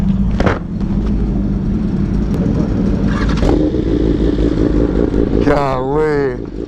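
A Yamaha R1M sport bike rides along with a steady, loud engine drone heard up close, a sharp blip partway through, and a voice talking over the ride near the end.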